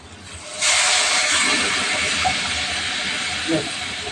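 Hot water is poured onto moringa drumsticks and potatoes frying in a hot pan. A loud burst of steamy hiss starts suddenly and then settles into a steady sizzle, with a voice faintly present.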